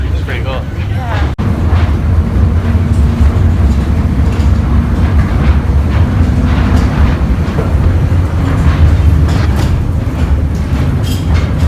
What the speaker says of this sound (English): The train's coming! The train's coming!